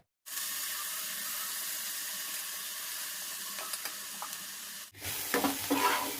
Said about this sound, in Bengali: তেল গরম হোক, এবার চিংড়িটা দিয়ে দেবো।